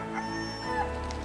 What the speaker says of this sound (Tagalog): di ba manok yan ni Lolo Pepe?